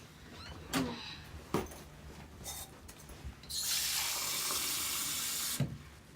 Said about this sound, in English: Can you fill that cup with water, please?